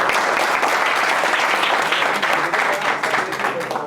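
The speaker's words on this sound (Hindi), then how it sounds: "एक बार जोरदार तालियां हो जाएं मेरे लिए।" A crowd at a stand-up comedy show breaks into loud, sustained applause, a thick continuous roar of many hands clapping that stays strong from start to finish.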